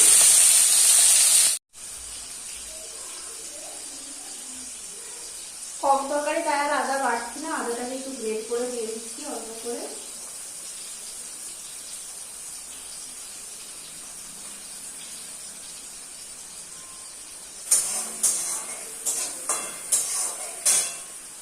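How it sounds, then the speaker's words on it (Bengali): Chopped tomato frying in hot oil, opening with a loud hissing sizzle that stops abruptly; a voice talks over a quiet background midway, then crackling sizzles and stirring return toward the end. "তেল তো গরম হয়ে গেছে টমেটো কুচি"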